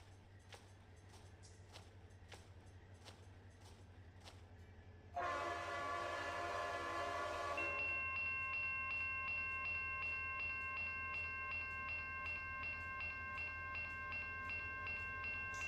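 A diesel locomotive horn in the Run 8 train simulator game blasts loud and sustained for a few seconds, then drops to a steady held chord over a low rumbling engine, after soft clicking bell-like taps.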